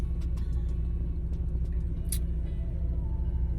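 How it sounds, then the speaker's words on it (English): A truck engine idles steadily on a cold snowy day in Texas while it warms up, a constant low rumble with a few faint clicks and ticks above it and no talking. "I'm sitting in my truck now while it warm up."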